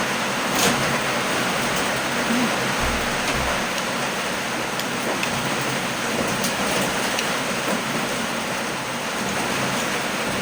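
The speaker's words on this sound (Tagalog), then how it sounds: "Grabe yung ulan." Steady heavy rain pours down as a dense, constant wash, loud and unbroken, with a few low thumps in the background and no talk.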